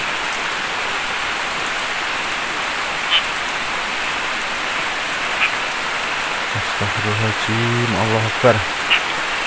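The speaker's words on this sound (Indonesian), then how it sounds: "Ini hujannya semakin deras" Heavy rain pours steadily on a hut in a steady broadband hiss, with a few louder drops, while a voice speaks prayers near the end.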